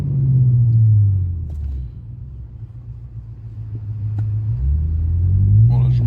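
A BMW M5 F10 car's engine rumbles loudly, then drops to a quieter steady drone, before climbing again in a strong acceleration surge heard from nearby.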